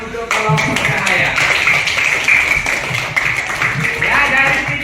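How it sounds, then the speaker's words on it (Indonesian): Students in a classroom clap for a student group during an Islamic religious education lesson, a few seconds of steady, moderately loud clapping with sharp taps at the start and a murmur of voices mixed in. "Tepuk tangan untuk kelompok cahaya."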